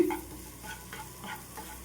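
Grated onion fries in a pan for an onion curd chutney, with a steady soft sizzle broken by a few scraping stirs of a spoon. No one speaks.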